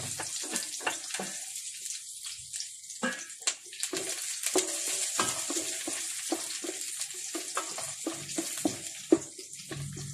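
Ginger, garlic and white onion sautéing in a pan for chicken liver and gizzard, a steady sizzle broken by frequent scraping stirs close by, with no talking.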